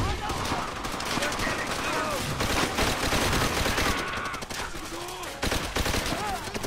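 Rapid submachine-gun fire from a Type 100 in Call of Duty: World at War mixes with dense surrounding battle gunfire, heavy and continuous, with shouting voices underneath.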